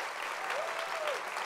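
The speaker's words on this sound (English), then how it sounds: "I want to give a huge round of applause." Steady applause from a festival audience at the inaugural address of JLF Colorado 2019, a dense even patter of many hands, moderately distant, with a faint tonal whistle-like sound drifting above it partway through.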